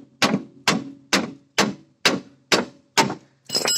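Seven sharp metallic clangs at a steady, roughly half-second rhythm ring out up close as a hammer strikes the front shock mount on a 2002 Chrysler Sebring 2.7 convertible, each blow loud and quickly decaying, with no talk.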